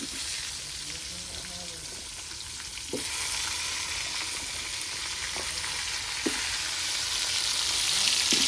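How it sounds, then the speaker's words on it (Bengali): Potatoes seasoned with turmeric and salt sizzle steadily in hot oil in a home kitchen, a continuous bright frying hiss with a few soft stirring knocks, close and fairly loud throughout. "তেল কিন্তু গরম হয়ে গেছে, এবার দিয়ে দেবো আলুগুলো।"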